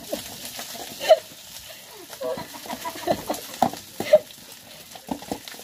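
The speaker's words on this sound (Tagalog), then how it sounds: "Gisa-gisa lang natin ang corned beef guys" Corned beef sautéing in a pan for simple fried rice, with soft sizzling and scattered stirring scrapes and taps close by, a few sharper clinks standing out, while a voice talks over it.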